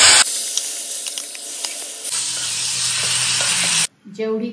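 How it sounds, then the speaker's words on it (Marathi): Fenugreek seeds, mustard seeds, asafoetida, turmeric and raw mango hitting hot oil for a tempering, a loud close hiss and sizzle that surges midway, then cuts off abruptly near the end. "मेथ्या घालून फोडणी करूयात।"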